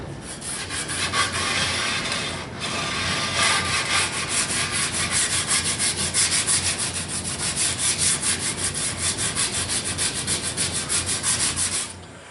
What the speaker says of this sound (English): here I am done sanding